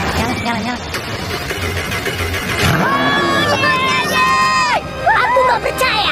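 A Lamborghini engine fires up and revs, rising and falling in pitch over several bursts, loud and close amid a chattering crowd and voices.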